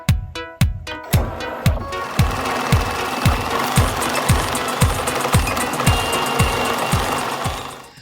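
An embroidery machine stitches a design onto name tape held in a frame, starting with a few spaced heavy thumps and then settling into a loud, fast, regular needle pounding that runs steadily to the end.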